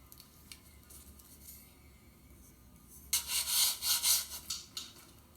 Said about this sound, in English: Now we are sanding the different parts.